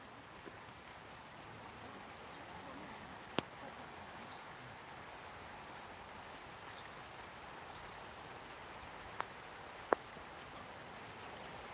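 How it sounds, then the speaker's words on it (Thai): Steady rain patters across Buddhist temple grounds in Thailand, a soft, even hiss with scattered close drips and taps, faint and continuous with no voices. "ฝนตกพอดีเลย"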